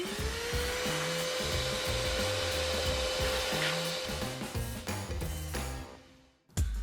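A vacuum cleaner runs steadily while cleaning a car's interior, a loud continuous whirring drone with a shifting lower rumble as the nozzle moves around, then a brief cutout and a thump at the end.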